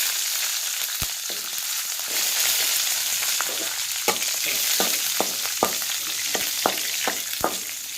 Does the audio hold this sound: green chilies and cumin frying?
yes